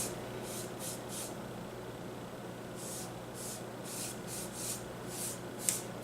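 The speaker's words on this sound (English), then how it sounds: "I'm going to give the picture frame a couple of coats of paint till I get it to a color that I like." Brush strokes of paint on a Dollar Tree picture frame make soft, repeated swishing rubs close by over a steady low background hum, with no one speaking.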